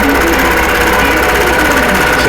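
A sewing machine runs fast and loud, close up and without pause, stitching ten-inch rows of quilt blocks into a pieced top.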